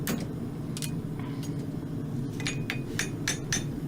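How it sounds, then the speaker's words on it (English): Light, gentle hammer taps shaping a fullered concave hind horseshoe for a riding horse, ringing in a sparse, uneven series of sharp metallic strikes over a steady low workshop hum. "the hammer blows are not heavy forging but light, gentle caressing of the material"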